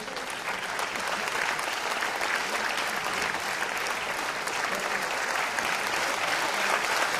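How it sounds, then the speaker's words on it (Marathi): An audience applauds at an award ceremony, a dense, steady wash of many hands clapping that holds at an even level from start to finish. "जोरदार टाळ्या आपण त्यांच्या कार्यासाठी वाजवूया."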